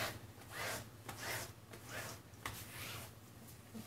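A cloth wipes varnish across the surface of an acrylic pour painting in repeated rhythmic strokes, a soft close-up rubbing and swishing with no talking.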